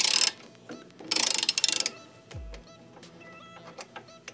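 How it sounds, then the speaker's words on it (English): Tool work on a Twin Cooled Harley-Davidson crash bar, a T40 Torx socket bit on an extension loosening a bolt, with close metallic ratcheting clicks, a few louder bursts of rattling and clanking, and small taps in between. "I'm using a T40 socket bit on an extension and kind of working my way in here"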